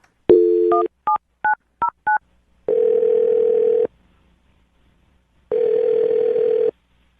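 Telephone keypad dialing: a quick series of short touch-tone beeps followed by two long ringback tones separated by a gap of silence.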